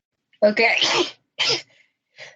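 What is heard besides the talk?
a sneeze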